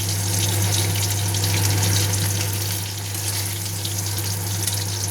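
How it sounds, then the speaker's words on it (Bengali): Fried fish heads go into a pot of boiling dal, giving a continuous bubbling, sizzling wash of liquid over a steady low hum, close and fairly loud with no talking. "এবার আমি মাছের মাথাগুলো ভেজে নিয়েছি, সেই মাছের মাথাগুলো তুলে দিয়ে দেবো।"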